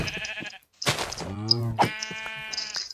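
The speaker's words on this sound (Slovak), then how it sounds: "ešte pred večerom som si všimol ovce. Áno, ovce. Oveľa bližšie." Sheep in the Minecraft video game bleat twice in quick succession, a close, wavering pixel-game baa standing alone with no talk over it.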